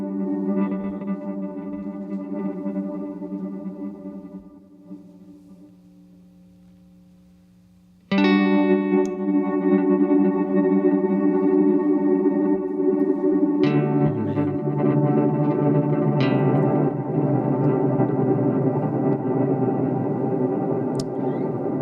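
An effects pedal with feedback and regen turned up smears sustained tones into a dense, swirling wash. A darker, fading passage gives way to a sudden bright swell as the tone control sweeps open, with repeating echoes piling up.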